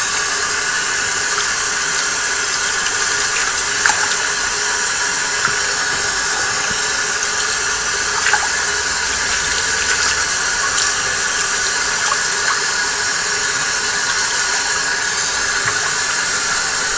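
Tap water runs loud and steady as parts of an Eheim 2213 aquarium filter are rinsed, a continuous close hiss and splash with small knocks throughout.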